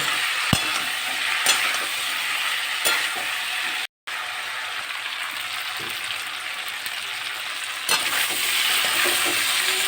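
Spices with chili powder sizzle steadily in a hot pan while a utensil scrapes and stirs through them, a close, continuous frying hiss with a brief break midway.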